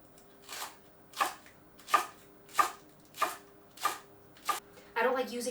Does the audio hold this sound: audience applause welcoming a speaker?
no